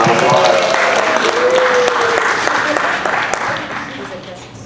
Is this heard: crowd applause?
yes